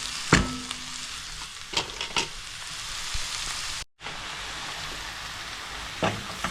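Onions fry in a pan with a steady close sizzle, broken by a few stirring scrapes and a momentary dropout partway through, with no talking.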